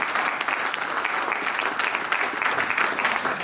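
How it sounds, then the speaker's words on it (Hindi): Hearty applause from a seated audience at a motivational talk on mindfulness, a continuous dense crackle of many hands clapping at an even, fairly loud level with no speech over it. "सर के लिए जोरदार तालियां बजाएं प्लीज।"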